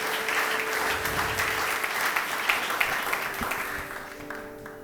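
Church congregation applauding the word of God, a dense wash of hand clapping from many people that holds steady and then gradually fades toward the end.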